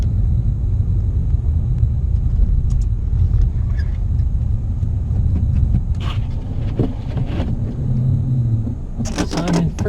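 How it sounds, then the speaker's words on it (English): Manual transmission car pulling away from a stop sign in snow in first gear with the clutch slipping, a loud steady engine rumble inside the cabin, with faint clicks and short bursts of noise. "gonna ride the clutch, let the car pick up some momentum. Wheels are starting to spin,"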